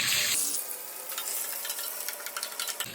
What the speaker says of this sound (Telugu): నెయ్యి ఆయిల్ కాగిన తర్వాత ఎర్రగడ్డ వేసుకోవాలి